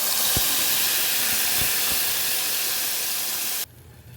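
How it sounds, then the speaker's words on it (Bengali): A spice paste of yogurt, poppy seed, cashew, fennel and ginger fries in hot oil, a loud steady sizzling hiss with a few soft pops, cutting off abruptly near the end. "এখন এটাকে আমি খুব ভালো করে কষিয়ে নিব যতক্ষণ না মশলার থেকে তেল ছেড়ে দিচ্ছে"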